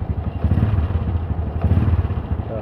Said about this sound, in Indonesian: Suaranya gemercek bagian mesin ya.